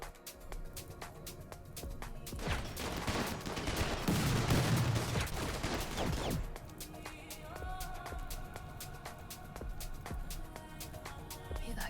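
Gunfire in a ship-combat video game, a steady run of sharp shots peaking in a dense loud burst midway, then continuing as scattered cracks over a constant battle background.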